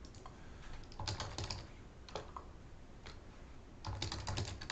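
Password typed on a computer keyboard, quiet close clusters of quick key clicks separated by short pauses, with no talking.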